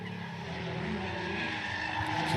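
Nissan GTR and Tesla launching off the line at a spectator drag race, a sustained loud roar of engine and tire noise with high screeching tones running through the whole stretch, steady and close.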